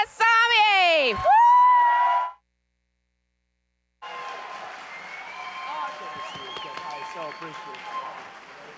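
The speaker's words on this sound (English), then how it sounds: "let's give him a big old warm round of applause for Vivek Ramaswamy" A crowd at a Dallas County GOP political rally applauds and cheers as a speaker takes the stage; a swooping electronic tone and sharp sweep come first, then a gap of silence before steady clapping with scattered whoops in a large room.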